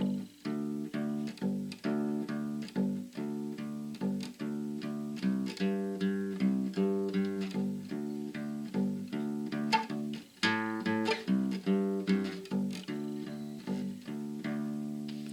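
A bass guitar plucks a steady, repeating 12-bar blues pattern of low notes in an even rhythm, played alone and fairly quietly.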